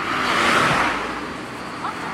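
A car sweeps past on a road outdoors, a loud broadband whoosh that peaks early and fades as it moves away, with no talk over it.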